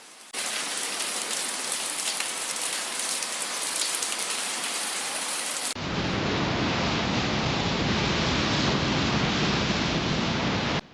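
A hailstorm with heavy rain pounds down in Texas as a dense, steady roar of hits, close and loud, with its texture shifting abruptly about halfway through and no voices.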